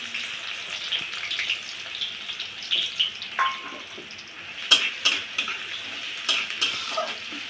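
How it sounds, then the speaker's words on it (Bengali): Chopped onions fry in hot oil in a kadai with a soft steady sizzle, broken by several sharp metallic scrapes and taps of a spatula against the pan. "দেখুন আমার আলু ভাজার তেলটা কড়াইতে আছে, সেই তেলটা একটু গরম হলে তার ভিতরে দিয়ে দেবো পেঁয়াজ কুচিগুলো"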